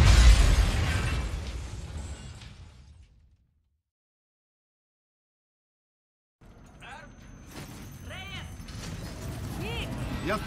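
A loud blast opens a terrorist attack on Mars in the Call of Duty Infinite Warfare video game, its rumble fading into silence before shouting voices and scattered battle noise return.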